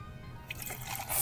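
Gin poured from a bottle into the small ounce side of a metal jigger for a grapefruit-and-lime cocktail, a brief close liquid trickle and splash that swells toward the end.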